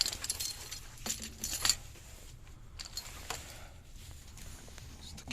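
Car keys jangling as they are picked up and handled, bright metallic clinks in short bursts early on, then quieter handling rustle; fairly close and with no speech.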